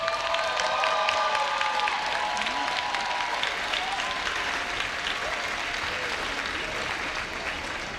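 Students at a university new-student convocation applaud and cheer in a dense, sustained wave of clapping. Whoops and shouts sit on top at first, and the clapping tapers slightly toward the end.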